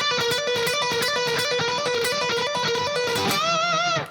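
Distorted electric guitar loops a fast four-note lick over and over without gaps, loud and driving, ending on a bent, wavering held note.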